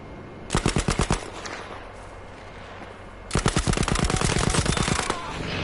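Automatic gunfire in Battlefield V, two rapid bursts of loud, close shots, the first short and the second longer and more sustained, over a low background hum.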